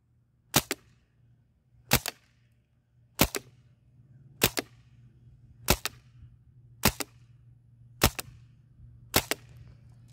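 A CO2-powered HK 416 replica gun fires eight sharp single shots at an even pace, about one every second and a bit, each crisp and loud against a quiet background with a faint low hum.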